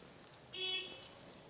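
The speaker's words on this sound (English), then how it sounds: "when someone's honking their horn" A single car horn toots briefly on a street in the old town of Murakami, Japan, fairly faint and somewhat distant against low ambient street noise.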